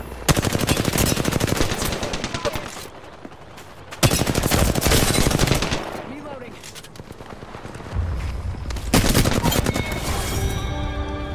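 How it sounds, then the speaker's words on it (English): Sustained bursts of automatic gunfire in an arena shooter, loud rapid rattling volleys broken by short pauses and repeated across the clip, with no voices over them. "Getting shot at."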